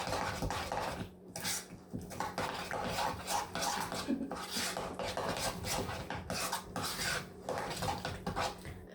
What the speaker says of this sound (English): go ahead and use that same spoon and just mix it all around